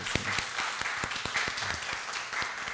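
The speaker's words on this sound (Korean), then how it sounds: "우리 격려와 사랑의 박수로 함께 주길 부탁드리겠습니다" Steady applause from a church congregation, continuous clapping at a moderate distance with no voices on top.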